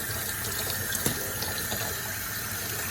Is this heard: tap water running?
yes